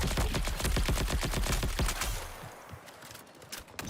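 An SMG in the shooter game ARC Raiders fires a rapid, loud burst of evenly spaced shots for about two seconds, then falls away to quieter scattered noise with a few faint later pops.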